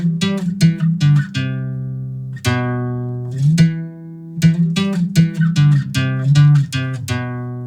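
Guitar playing part B of a song's riff, a run of plucked single notes in a repeating rhythmic phrase with sliding pitch changes, close and clear, with no talking.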